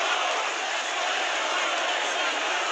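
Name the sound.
boxing crowd roaring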